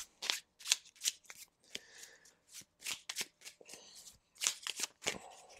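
Board game cards for Pulsar 2849 shuffled by hand, a close, brisk string of papery riffles and flicks in quick uneven bursts, with no voices.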